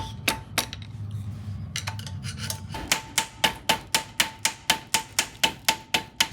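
Sharp metallic hammer strikes on the bottom bracket of a 1980s Nishiki Olympic 12 bicycle ring out, a few scattered at first, then a steady rapid series of evenly spaced blows, close and loud.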